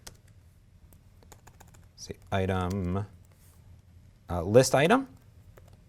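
Light clicks of typing on a computer keyboard tap faintly in the background, mostly before and between stretches of someone speaking.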